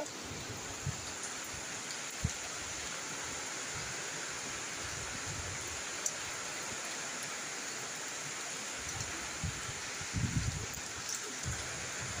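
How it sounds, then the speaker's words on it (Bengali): Heavy monsoon downpour with storm, a dense continuous hiss of rain heard from indoors at moderate level, with a few scattered louder drips and knocks, no voices. "বাড়ছে বৃষ্টি"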